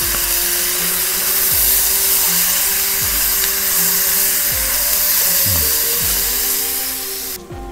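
Beef searing in a hot cast iron pot for a hearty stew gives a steady, close sizzle that runs without a break. A constant mechanical hum sits underneath it.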